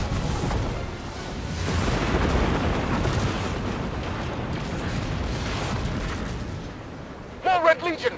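Sustained rumbling barrage of missile explosions in the Destiny video game, a dense roar of booms lasting several seconds before fading, followed by a short burst of voice at the end.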